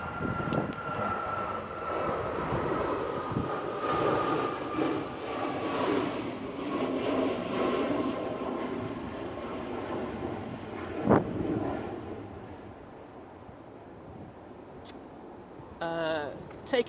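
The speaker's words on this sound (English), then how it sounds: "Ryanair now on the roll using the 737 MAX 8" A Ryanair Boeing 737 MAX 8 on its takeoff roll at Manchester Airport in a storm, a steady broad jet engine roar with a whining tone, fairly distant, fading slightly toward the end amid wind.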